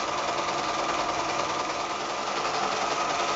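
A domestic sewing machine runs a zigzag stitch along the seam allowance of a pillowcase, a steady continuous mechanical whir with a fine rapid needle rhythm, close and unbroken throughout.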